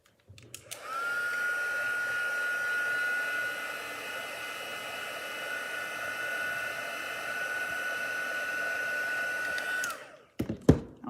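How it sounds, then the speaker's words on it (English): A heat gun blows steadily for about nine seconds with a constant airy roar and a thin whine, melting embossing powder for card making, then clicks off with a few handling knocks. "now we're going to set it with the heat gun. We're going to melt our embossing powder."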